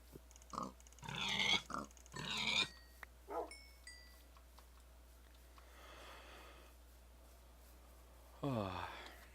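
Pigs in a video game snorting and grunting in short bursts, followed by quieter sniffing noises and a final squealing grunt, with a few electronic tones in between.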